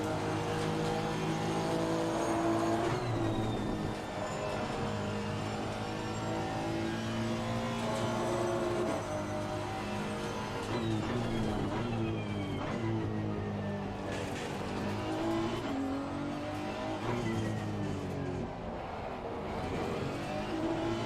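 Honda NSX race car engine in Assetto Corsa Competizione at Silverstone, revving steadily with rising and falling pitch through gear shifts and corners, loud and continuous with faint tire noise.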